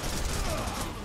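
A brief, dense barrage of gunfire in the action game Devil's Third, loud and continuous for about a second with rapid overlapping shots.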